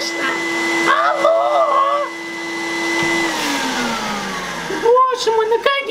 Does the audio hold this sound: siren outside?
no